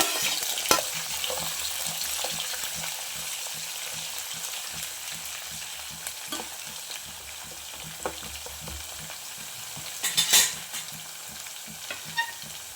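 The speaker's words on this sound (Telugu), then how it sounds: "ఆవాలు జీలకర్ర ఆనియన్ వేసుకోవాలి" Mustard seeds, cumin and chopped onion frying in oil in a pan, a steady close sizzle running throughout with scattered pops and crackles, plus a few louder spatters and stirring scrapes near the end, no voices.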